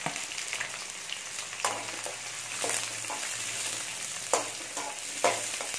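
Onions and green chilies sizzling in a pan for crab kulambu, a constant frying hiss broken by several sharp scraping stirs of a spoon against the pan, close and moderately loud with no voice.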